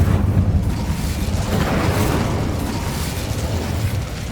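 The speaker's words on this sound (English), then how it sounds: "Incendio." Incendio fire spell blast in the video game Hogwarts Legacy: a loud, sustained roaring burst of flame and rumble, dense and close, easing slightly toward the end.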